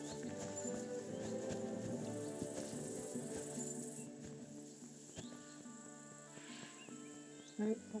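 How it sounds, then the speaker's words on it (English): Horse in a medieval open-world game, its hooves clip-clopping steadily over a layered outdoor ambience of crickets and insects, with a short snort or whinny near the end. "No, that's a horse."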